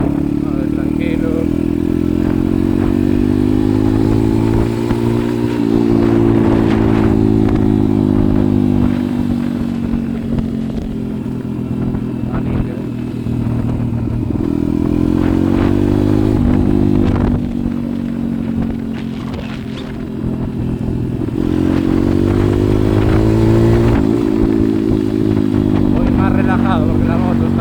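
A 140cc pit bike engine drones steadily while riding on asphalt, rising and falling in pitch with throttle changes, loud and close throughout, with wind and rattling under it.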